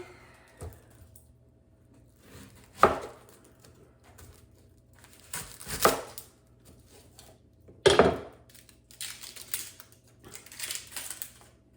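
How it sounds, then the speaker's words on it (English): An onion being chopped with a knife on a cutting board, heard as a few scattered, fairly sharp knocks with long quiet gaps between them and faint clatter in the background. "Now I'm going to chop up my onion."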